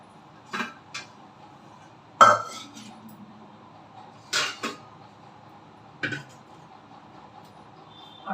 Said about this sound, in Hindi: जल्दी जल्दी बर्तन लगा लेती हूँ पहले।